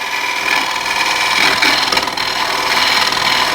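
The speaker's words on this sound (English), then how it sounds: "this bowl scraper to blend the curve" Bowl scraper shaving the curved inside of a wooden bowl spinning on a lathe, giving a steady, close, loud rasping scrape with a faint motor hum underneath and no talking.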